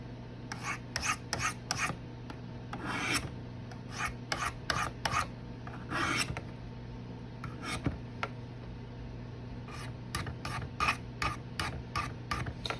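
A CRKT M-16 knife is scraped during cleaning and sharpening, with bursts of rasping strokes, some single and some in quick rhythmic runs, close and crisp over a low steady hum.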